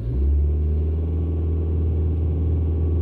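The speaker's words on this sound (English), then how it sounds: "I'll press the throttle all the way to the floor and accelerate as fast as possible." Ford Focus Mk2 with a transmission malfunction and ESP fault pulling away at full throttle, a steady low engine drone and rumble heard from inside the cabin, holding a fairly even pitch with little rise.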